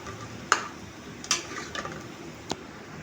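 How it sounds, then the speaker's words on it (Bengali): A roast with milk just added is stirred in a pot. A few sharp, spaced clinks of a spoon against the metal stand out over a faint bubbling simmer, and there is no talking. "রোস্ট কষানো হয়ে গেছে, আমি এখন দুধ দিয়ে দিচ্ছি। এখন এগুলোকে আমি ভালো করে নাড়িয়ে নিব।"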